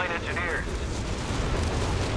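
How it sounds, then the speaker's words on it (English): Whizbang rocket barrage slamming into a target in Company of Heroes 3, a dense rumbling blast of impacts with crackling detonations running the whole moment, loud and continuous, with game voices faintly over it. "Whiz-bang slamming some damage."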